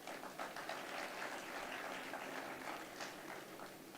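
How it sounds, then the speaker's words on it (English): At a WRC Safari Rally sponsorship event in Kenya, a crowd gives the rally's CEO steady, faint applause that sounds distant and carries on evenly for a few seconds. "maybe we can continue clapping for the CEO of the"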